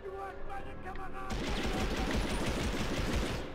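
Rapid bursts of gunfire from the PS1 video game Medal of Honor erupt suddenly and continue densely and loudly, with quieter game sounds beforehand.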